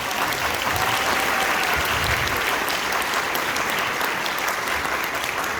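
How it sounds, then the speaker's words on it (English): An audience at a high school end-of-year concert claps in continuous, even applause, a dense wash of hands held at a constant level for several seconds without talk over it. "give him a round of applause."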